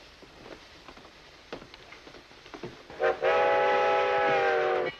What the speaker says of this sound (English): Always is when the train comes in.